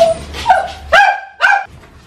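Small puppies bark and yip in a few sharp, close bursts at a family home, with whimpering tones between the yaps.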